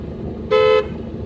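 A driving-school car in traffic gives one short, loud, steady honk of its horn, lasting about a third of a second, over low road rumble.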